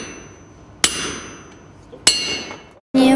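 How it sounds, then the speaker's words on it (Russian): Hammers strike hot iron in a forge workshop during a Urals trip, with two sharp, loud metallic clangs about a second apart, each ringing out with a decaying tail, then a third hit starts at the very end. "Шум станков, стук молотов, раскаленное железо"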